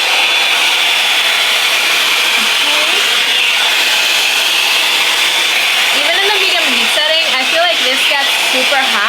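A Revlon One Step Plus 3X ceramic hot air brush on medium heat dries wet curly hair with a steady, loud, close airy whoosh, while a voice talks over the later part.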